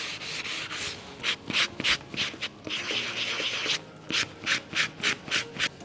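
Close, repeated rubbing strokes of a damp microfiber cloth along the edges of painted wooden furniture for a light distressed finish, steady rasping passes then quicker rhythmic bursts, no talking.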